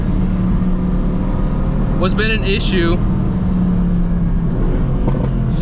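A Mercedes-AMG GT C sports car's engine holds a steady low drone from the cabin, with someone briefly talking over it partway through.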